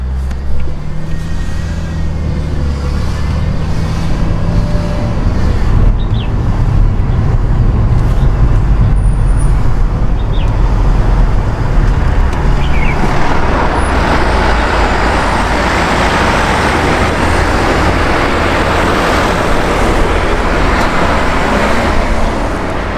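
A fifteen-year-old mini supercar drives along the road, with a continuous loud rumble of engine and tyre noise and traffic around it, and no talking.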